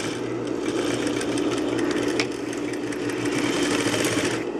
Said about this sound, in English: And we're gonna go back stitch so it will stay nice and secure.